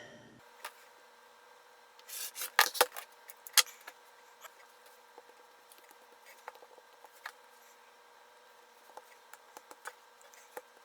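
Scissors cutting fabric scraps into one-inch strips for a woven rag hot pad, with a cluster of crisp snips and rasps around the second and third seconds, then sparse quiet clicks and rustles.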